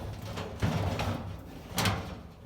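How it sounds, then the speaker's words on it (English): Drawers on a dented, empty, slightly wobbly tool box slide open and shut in a workshop, giving several short scraping slides and soft thumps close by. "The drawers, you know, open and close."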